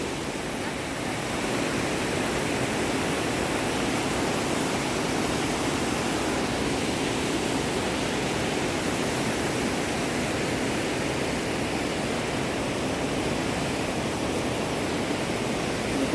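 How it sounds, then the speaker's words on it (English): A stream near a double-decker living root bridge in Cherrapunjee, Meghalaya, gushes and flows in a steady, continuous rush, a broad hiss with no pauses and no voices. "listen to the sound of water, the rippling sound, gushing sound, flowing sound"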